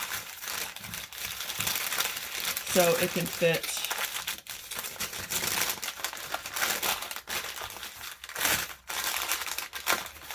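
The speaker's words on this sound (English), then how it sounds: "So I'm just opening it and then I'm folding one end in, folding the other end in," A paper bag is opened, folded and crumpled up close, with loud stiff crinkling and rustling in bursts throughout while a person talks over it.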